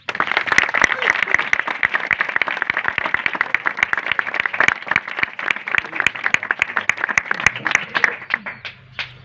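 A church congregation at a worship service in Ghaziabad bursts into applause: dense, energetic, fairly rhythmic clapping close by, thinning into scattered claps and then trailing off at the end.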